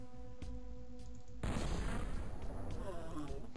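Gunfire in the XCOM video game erupts abruptly after a steady background hum, a loud burst followed by sustained rumbling crackle and echoing blasts.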